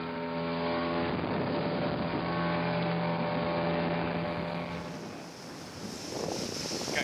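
A sailboat runs downwind wing on wing with the jib out, and steady wind rushes and water washes along the hull, close and continuous, with a low droning tone underneath.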